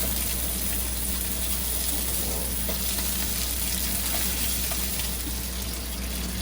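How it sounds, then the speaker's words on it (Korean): Garnish vegetables, including lightly blanched asparagus and garlic, are stir-fried in butter in a pan, giving a steady, dense sizzle that stays loud and close throughout with no one speaking. "가니쉬할 야채들을 개인 취향에 맞게 볶으시면 됩니다"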